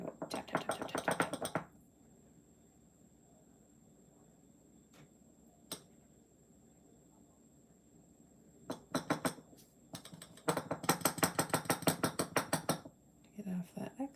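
A caramel-coated pretzel stick tapped against a surface to shake off excess caramel, giving quick bursts of sharp ticking taps at the start and again in a long rapid run near the end, with quiet gaps between.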